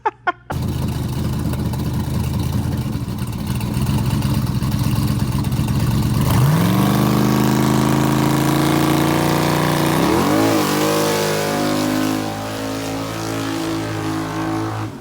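A twin-turbo LS-swapped G-body car engine revs hard and loud, rising in pitch through repeated climbs with turbo whine and a steady rumble; no talking.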